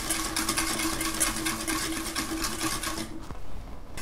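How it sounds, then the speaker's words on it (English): A high shear mixer stirs a white lotion emulsion with a steady, close motor whine and whirring hum that cuts off near the end, leaving quieter room noise. "just give that a stir using high shear, and you'll see a nice white emulsion is starting to form now"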